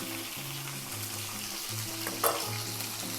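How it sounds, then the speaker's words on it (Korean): Sliced cherry tomatoes sizzle and fry in a hot pan for spaghetti allo scarpariello, a steady close crackle with a brief louder clatter partway through and no talking. "이제 방울토마토 썰어둔 거 전부 넣겠습니다"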